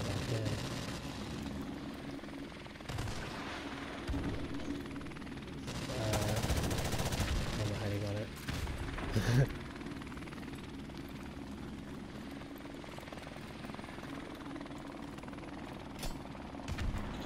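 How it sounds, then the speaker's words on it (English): Helicopter rotor thrum in the Call of Duty Modern Warfare Remastered video game, steady throughout with bursts of machine-gun fire and explosions, under occasional player talk. "Get that heli."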